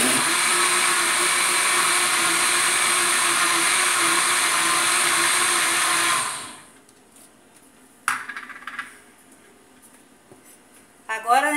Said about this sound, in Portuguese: a gente vai batendo e aí colocando a farinha aos poucos para poder o liquidificador aguentar bater